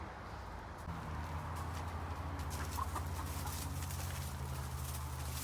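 Backyard chickens kept in an enclosed run cluck softly and intermittently, a faint rural murmur of hens close by with no talking.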